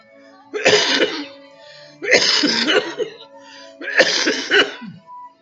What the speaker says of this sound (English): help me stop coughing